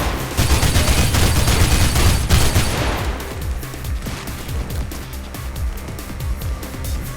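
Gunfire in Mirror's Edge breaks out as rapid rattling bursts over a dense roar of game noise, then continues as a fast regular stream of close shots, with no talk.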